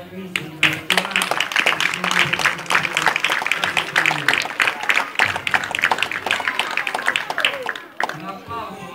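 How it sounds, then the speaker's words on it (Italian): Applause from an audience at a children's event, a dense sustained patter of many hands clapping for several seconds under a loud voice speaking over it, fading near the end. "dovremmo fare innanzitutto un applauso fortissimo a questi bambini"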